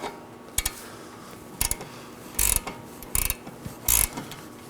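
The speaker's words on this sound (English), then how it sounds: "So I'm going to use my 18mm wrench, slide it over, and now my 8mm wrench on top." An 18mm wrench and an 8mm wrench work the outer tie rod nut on a 2018-2024 Chevrolet Equinox, producing several short metallic ratcheting clicks in separate bursts, close up, with no speech.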